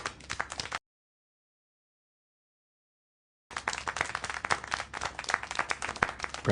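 Clapping in the video game Syberia: The World Before, scattered in bursts, a short patter, a long silent gap, then a longer stretch of irregular claps.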